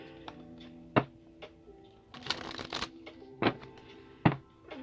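Tarot cards being shuffled and flipped at a reading table: soft scattered riffles and flicks, with several sharper snaps and a denser shuffling burst in the middle, fairly close and quiet, no talk.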